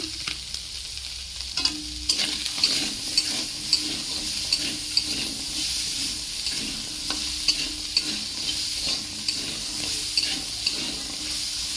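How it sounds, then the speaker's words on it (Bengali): Crab sour curry with turmeric and salt is stirred in a pan, a steady close sizzle broken by repeated scraping clinks of the spoon at an uneven rhythm, with no talk. "এইভাবে কিছুক্ষণ নাড়াচাড়া করতে থাকবো"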